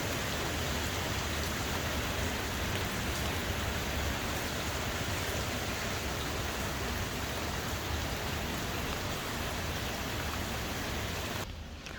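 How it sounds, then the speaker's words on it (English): Steady rain falls outside, a dense continuous hiss of drops on surfaces that stays even and fairly loud the whole time with no voices. "But you can hear the rain."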